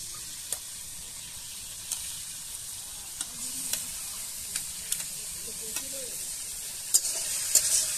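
Ginger, chilli and banana flower frying in a pan, a soft steady sizzle and hiss near the mic with periodic light clicks of a spatula stirring, and faint talk.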